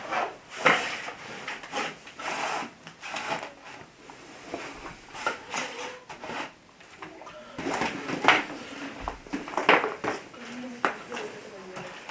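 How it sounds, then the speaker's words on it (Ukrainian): A mobile heated floor mat being unrolled across a floor, giving repeated rustling, rubbing and scraping sounds at close range, with a person talking over it throughout. "вже е, один ми монтували і починаємо його розмотувати"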